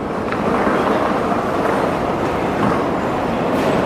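A KTX high-speed train on the track in South Korea makes a steady loud roaring rush with wind noise, continuous for a few seconds.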